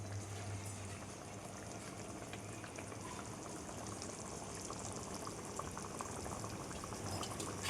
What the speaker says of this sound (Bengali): এর থেকেই জল বেরোবে, মাছটা এই জলেতেই সিদ্ধ হয়ে যাবে।